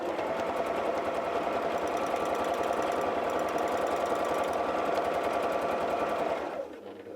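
A sewing machine stitching free-motion quilting squares runs in a steady, continuous rapid whir close by, then stops abruptly near the end, leaving a quieter hum.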